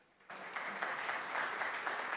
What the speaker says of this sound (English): A smattering of applause for Amanda,